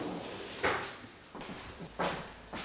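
A kitchen drawer is slid in and out several times, giving soft rolling rumbles punctuated by three or four sharper knocks as it stops, faint and close with no talking.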